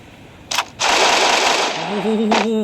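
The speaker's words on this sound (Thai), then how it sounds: "กระโดดยิงโคตรโหด" Gunfire while jump-shooting in the video game Free Fire: a short burst, then a sustained loud rattle of automatic fire lasting over a second, with a faint tonal game sound near the end.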